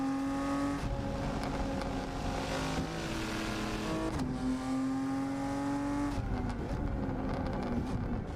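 Turbo Volvo S60R engine in a driving simulator, loud and continuous, pitch stepping up and down through gear changes, with crackling exhaust pops over the engine note and no talking.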